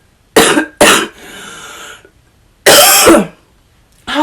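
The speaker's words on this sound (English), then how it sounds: "There's gonna be a lot of cutting out of the coughing that is happening during this." Several harsh coughs in separate bursts, one followed by a rougher throat-clearing rasp, close and loud with brief quiet gaps between.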